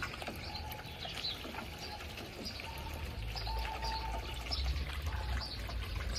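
Water runs steadily from a garden hose in a backyard beside a pool, a soft continuous wash under pigeons cooing and other birds calling nearby.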